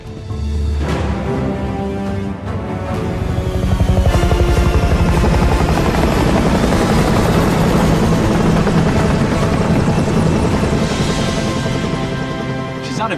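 A CIA plane's engine in an action film, a loud, continuous roar of spinning rotors or propellers that swells and holds steady throughout, dense and close with a rhythmic chopping texture.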